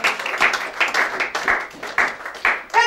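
A church congregation applauding to acclaim the Lord, steady rhythmic clapping in regular bursts of about two per second, fairly close and lively.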